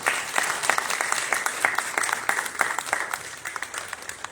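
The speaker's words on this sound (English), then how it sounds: "please give yourselves an applause" Audience applause at a community summit held at Lincoln Hospital in the Bronx, a steady burst of many hands clapping, fairly distant and sustained, fading slightly toward the end.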